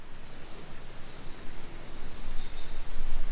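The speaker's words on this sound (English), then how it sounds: "it is rainy season in the Philippines, and it is rainy day here at Villa Feliz" Steady rain falls on a rainy-season day at a house building site in the Philippines, a continuous even hiss of drops that swells slightly, with no voices.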